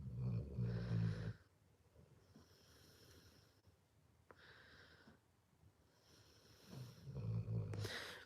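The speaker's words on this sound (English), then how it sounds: "You hear him snoring?" A man snores quietly nearby in two slow, drawn-out rumbling breaths separated by a long quiet pause.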